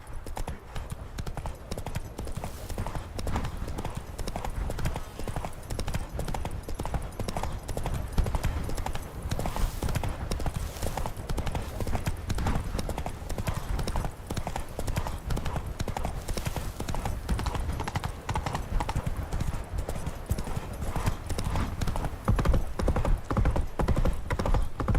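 Roach, a horse in the Witcher 3 video game, gallops on and on in a steady, fast clip-clop of hooves with continuous rushing background noise and occasional faint voices.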